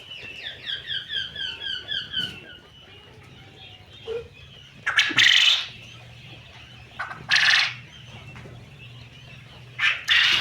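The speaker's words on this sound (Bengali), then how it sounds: "দেখেন এগুলি হলো আমার কোয়েল পাখি।" Caged quail kept for eggs, with a rapid rhythmic series of chirping calls at the start, followed by a few short, louder bird calls spaced apart over quiet background hum.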